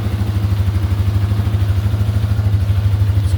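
Restored Yamaha Warrior 350 motorcycle engine idling steadily up close, a strong even low thump with light mechanical clatter and no valve tick, running alone without talk.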